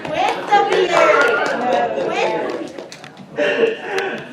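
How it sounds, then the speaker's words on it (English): Church congregation applauding a preacher during a service, clapping mixed with chatter and laughter, with voices heard throughout, a brief lull, then another burst near the end. "3 years of preaching here, and I've had my first applause"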